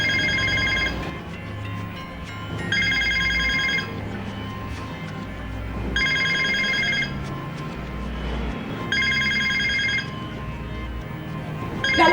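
A telephone rings in repeated bursts of a bright electronic trill, four rings roughly three seconds apart, over a steady low background hum with no talking.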